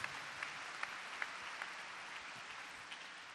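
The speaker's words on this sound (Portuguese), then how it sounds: "Fazer uma salva de palmas para o Dom Adalberto." A church congregation applauding, a faint, distant, even patter of many hands clapping at once, with a few sharper claps standing out.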